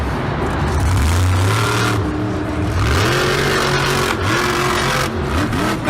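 Monster truck engine at a Monster Jam freestyle event in Seattle, loud and rough, revving up and down in repeated surges over constant arena noise, with no talk.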